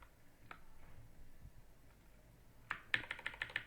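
Computer keyboard keys clatter during MySQL table work, a quiet pause followed by a quick run of about six crisp, close taps.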